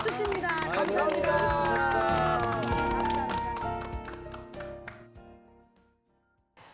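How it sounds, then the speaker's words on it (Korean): An audience at a Jeju community broadcast event breaks into steady applause mixed with crowd chatter and voices. The clapping stays full for several seconds, then tapers off to near silence. "이럴 때 박수를 한번 보여."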